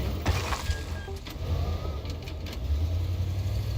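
A car engine in the game Teardown runs at a steady idle, a continuous low throb with slight surges. Faint clunks and knocks sound over the top.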